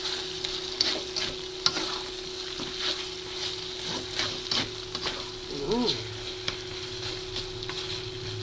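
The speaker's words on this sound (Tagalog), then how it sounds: "Okay, pwede na natin ilagay ang ating chicken buffalo, yung ating chicken wings na binirito na kanina. Mix lang natin." Chicken buffalo wings are stirred in a frying pan, giving a steady soft sizzle broken by repeated scraping and clacking strokes of the utensil against the pan, close and unaccompanied by talk.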